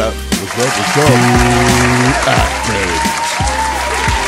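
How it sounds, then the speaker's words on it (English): A studio audience on a morning call-in show claps continuously under loud tonal music and voices, the clapping a broadband patter that stays mostly beneath the melody. "Clap it up"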